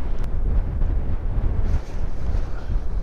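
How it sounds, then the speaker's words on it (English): Strong wind buffets the microphone in icy Vermont wilderness at about freezing, a loud continuous low rumble with gusts and no speech. "This wind is freaking crazy."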